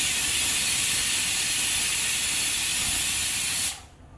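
A pressure cooker vents steam in a loud, continuous hiss for several seconds, then the sound cuts off abruptly.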